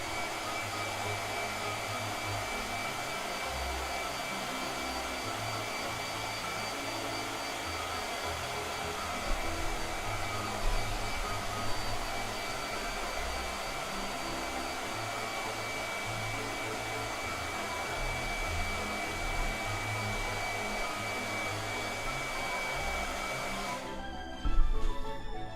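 A blow dryer runs continuously nearby with a steady whooshing motor hum and a thin high whine, cutting off abruptly near the end.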